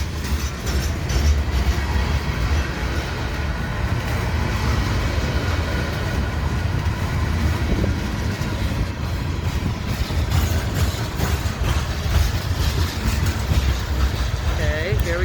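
A train rolls through a small-town depot street in Chapel Hill, Tennessee, with a steady, loud rumble and rattle of cars on the rails continuing throughout the whole stretch.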